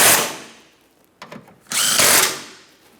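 A power tool drives and tightens 13mm bolts on the rear lower control arm and crossover bar of a Jeep Patriot in two loud, close whirring bursts, with a brief rattle between them.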